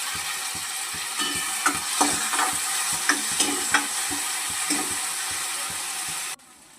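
Onion and tomato frying in a pan for puri bhaji, a steady close sizzle with occasional spoon-stirring clicks and scrapes, the sound cutting off abruptly near the end.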